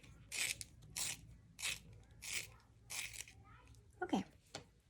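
Colored pencil being turned in a sharpener: a run of short, rough grinding bursts in a steady rhythm, close and fairly quiet, with a voice briefly near the end and background music underneath.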